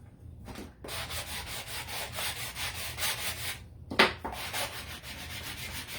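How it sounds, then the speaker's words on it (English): A small wooden shelf piece is sanded by hand with steady rhythmic back-and-forth rasping strokes, close and fairly loud, with two brief pauses. "let's take this one and sand it a little bit too"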